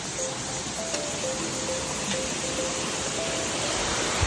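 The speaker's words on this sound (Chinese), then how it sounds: "瀑布" A waterfall beside the Walami hiking trail in Taiwan gives a steady, even rush of falling water that holds at the same level for the whole stretch, with no talk over it.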